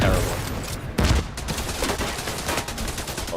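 Sustained automatic gunfire rattles loudly and continuously in a The Division 2 combat engineer firefight, with heavy overlapping bursts and a few deeper booms, like mortar blasts, packed closely together throughout.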